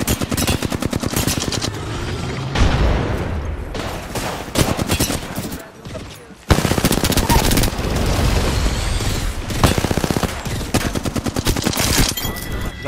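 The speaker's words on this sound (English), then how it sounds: "Someone else is shooting him too." Rapid automatic gunfire rattles through an Apex Legends firefight, with long dense bursts, brief pauses and renewed volleys, loud and close throughout, and a voice is heard faintly under the shooting.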